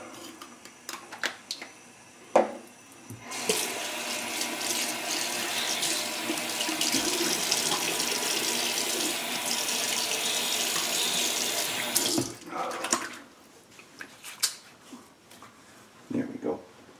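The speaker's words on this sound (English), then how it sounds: "Rinse that off quick." A sink tap runs for rinsing off after a shave, a steady close stream of water for several seconds, with splashing and handling noises before and after.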